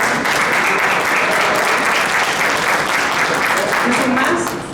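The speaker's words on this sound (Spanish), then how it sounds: "Un aplauso para Ixquic." Loud, steady applause from a conference audience carries on evenly for several seconds before starting to fade at the very end.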